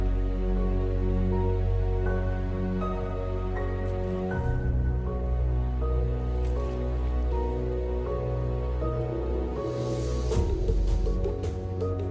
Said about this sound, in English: When you're hearing the waves lapping and the wind blowing and this music kicks up